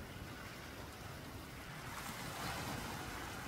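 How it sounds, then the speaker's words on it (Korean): Ocean waves break and wash along the rocky shore of Ulleungdo island, a continuous broad roar of surf that swells slightly louder toward the end, with some wind noise and no talking. "이 파도 소리는 제가 말하면 방해될 것 같다, 그죠?"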